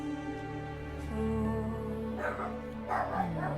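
Dog barks and yips set against a sustained orchestral backdrop from a live symphony concert, the barking moderately loud and mixed with held tones rather than standing alone.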